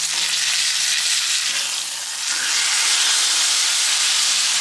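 A Cowboy Wagyu ribeye steak sizzles loudly in a hot pan just after being flipped, a dense, continuous close hiss that dips briefly and swells again, with no talking.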